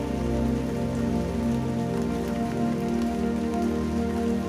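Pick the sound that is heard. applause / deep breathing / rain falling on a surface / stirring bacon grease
rain falling on a surface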